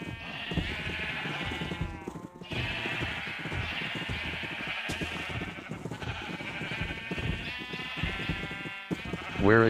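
Sheep bleat repeatedly in Minecraft, loud overlapping calls continuing throughout over a busy game soundscape, near and steady.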